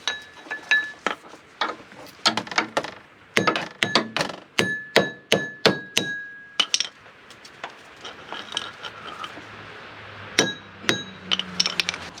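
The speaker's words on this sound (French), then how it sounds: "prendre un petit marteau, une plaque et on va essayer de tapoter derrière pour venir le décoller et l'extraire" Small hammer tapping a metal plate against the back of a Peugeot 208 front brake disc to loosen it, a series of sharp ringing metallic taps in irregular clusters, close and loud.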